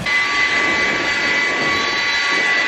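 Combine harvester cleaning fan roaring steadily at full speed to blow chaff off the header during cleanout, a loud continuous whooshing drone with a sustained high whine and no breaks.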